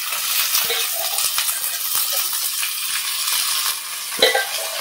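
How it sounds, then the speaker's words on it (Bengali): Rice dried with turmeric is stir-fried with banana flower in a pan at home, giving a steady close sizzle with a few scraping stirs and a brief utensil clink near the end. "এবার চালটা ভাজা ভাজা হয়ে গেল, এবার মোচাটাকে দিয়ে দিই।"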